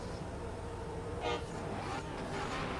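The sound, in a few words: car horn honk signaling start of drift run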